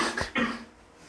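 A single short cough, sharp and close, breaks out and quickly fades into quiet.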